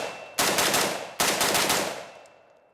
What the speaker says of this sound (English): you just looked at us firing this HK SL8-6 converted to a G36.